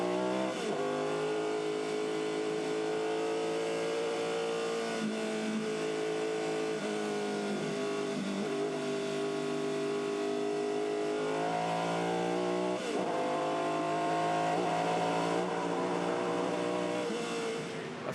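Formula 5000 race cars lapping the 2.9 km Pukekohe Park circuit: a loud, continuous engine howl whose pitch climbs and drops with throttle and gear changes, with no talk over it.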